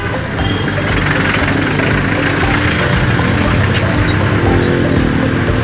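A jeep's engine runs loud and close with a continuous rough, rumbling idle that holds steady throughout, with no speech over it.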